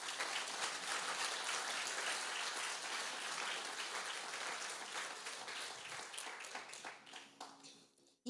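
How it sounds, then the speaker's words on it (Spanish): A church congregation applauds during a sermon, a long, steady clapping at low level that gradually thins and fades out toward the end. "Dale el aplauso al Señor."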